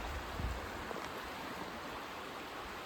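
Stream water flowing steadily along a walking trail, a soft continuous broadband rush at moderate distance with a brief low bump near the start, with no voices.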